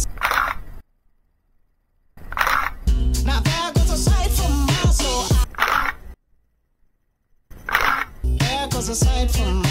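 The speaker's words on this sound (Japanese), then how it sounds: "シャッター音はこんな感じ。" Shutter of a CONTAX 167MT 35mm film camera fitted with a Carl Zeiss Planar 50mm F1.4 lens, fired in a few separate bursts of sharp mechanical clicks and whirring with silent gaps between them.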